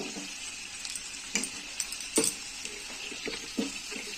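Chili powder tipped into a hot pan of frying spices for an egg and potato curry, giving a steady close sizzle with a few brief clinks and scraping stirs on top.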